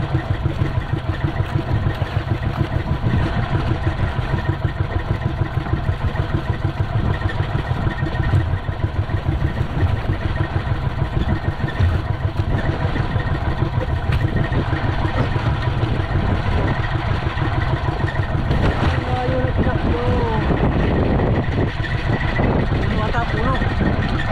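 A boat engine chugs loudly and continuously, a rough pulsing drone with rushing water noise, and voices call out faintly over it.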